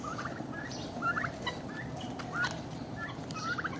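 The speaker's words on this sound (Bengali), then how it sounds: "এগুলো হচ্ছে টার্কি মুরগি আর হচ্ছে তিতিক এই যে এটা হচ্ছে তিতিক আর এই কালোগুলো হচ্ছে টার্কি সাদাটাও টার্কি" Turkeys gobbling in a farmyard pen among other poultry, several rapid warbling gobbles repeating at intervals over a steady background murmur, moderately close.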